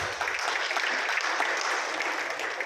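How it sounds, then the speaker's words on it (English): Dense, sustained applause at a state-level doctors' conference held by the IMA in Jagtial, a continuous wash of many hands clapping through the whole stretch with no pauses. "big salute, big claps"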